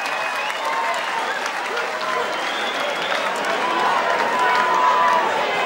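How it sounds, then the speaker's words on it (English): A darts crowd at Lakeside rises to its feet, and sustained applause and cheering fill the hall at a loud, steady level, with a commentator speaking over the noise. "They're on their feet at Lakeside. And now they cheer."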